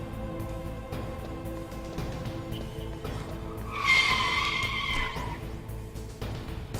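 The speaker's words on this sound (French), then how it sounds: "Je sais pas si c'est entendu le dérapage là dans ma rue." A car skids on a residential street, its brief tire squeal rising near the middle over a low background hum, heard from a distance.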